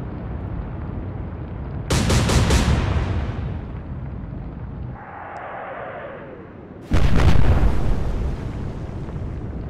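Heavy naval shell impacts on a battleship in the Atlantic Fleet video game, two loud booming blasts several seconds apart, each with a rumbling decay, separated by a quieter rushing whoosh.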